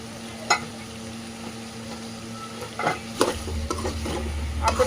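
Ginger paste frying in a pan for a chicken masala, a steady sizzle with a few sharp stirring scrapes and clatters toward the end, close and alone without talk.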